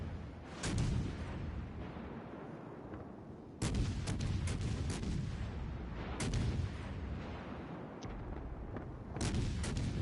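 Naval artillery fire from warships in World of Warships: Legends, with heavy booming salvos landing at about 0.7, 3.6, 6.2 and 9.2 seconds over a constant low rumble of battle, loud and close, with no talking.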